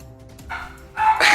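A dog barks twice in quick succession, the second bark louder and sharper, rising out of a quiet room background with no talk over it.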